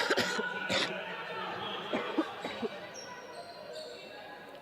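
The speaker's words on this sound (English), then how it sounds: "Excuse my cough, excuse me." A basketball commentator at a women's league game coughs a few times, short sharp bursts up close over faint court and crowd noise, with ball bounces in the background.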